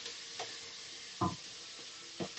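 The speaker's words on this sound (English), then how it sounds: "So just keep swirling it around till" Onions sizzling softly in a pan as a spoon stirs them, a quiet steady hiss broken by three faint scraping strokes.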